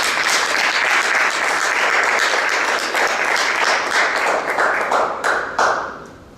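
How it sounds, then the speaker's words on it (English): Audience at a Toastmasters club meeting gives a round of applause, loud continuous clapping with a few sharp individual claps standing out as it fades at the close. "I think he deserves one more round of applause"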